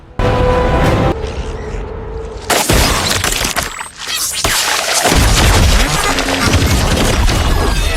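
Loud, chaotic animated explosions from exploding flowers and crashing debris burst out one after another, dense and harsh, with a brief lull in the middle before the din resumes.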